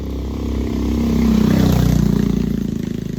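A motorcycle engine passes close by on a road, its drone swelling loudly and then holding a pulsing rumble as it goes by.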